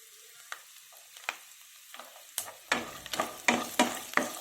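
Chopped ginger and garlic fry in hot oil for a soya chunk curry: quiet at first with light taps, then a louder crackling sizzle with repeated spatula strokes, close up and without speech.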